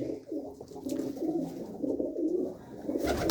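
Pigeons coo in a loft, low throaty warbling calls that run continuously and fairly close, with a few soft rustles and a sharper sound near the end.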